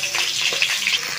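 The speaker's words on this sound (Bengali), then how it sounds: "একটু ভালো করে ভাজবো পটলটা" Pointed gourd (potol) pieces frying in smoking-hot oil, a loud, dense sizzle with stirring scrapes, close and brief with no voices.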